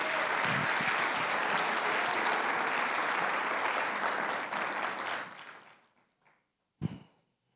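A church congregation gives loud, continuous applause that fades out over the last couple of seconds, followed by a brief isolated thump.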